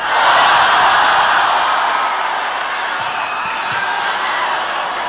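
A volleyball crowd cheers at a women's Superliga match between Cignal and Petron, a loud, dense, continuous roar of voices that swells at the start and holds steady throughout.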